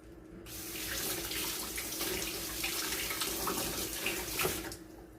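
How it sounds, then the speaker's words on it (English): Basil being rinsed under a running kitchen tap: a steady, close rush of water that starts abruptly, holds for about four seconds and cuts off, with no voices. "Go ahead and rinse out my basil."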